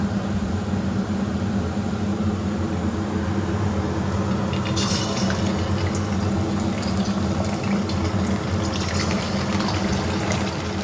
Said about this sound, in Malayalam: വെളിച്ചെണ്ണ അതാ നന്നായി ചൂടായി വന്നിട്ടുണ്ട്. നമുക്കപ്പോൾ ഓരോ ചിക്കനായിട്ട് ഇട്ട് കൊടുക്കാം കേട്ടോ.